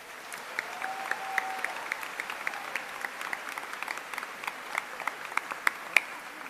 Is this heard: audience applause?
yes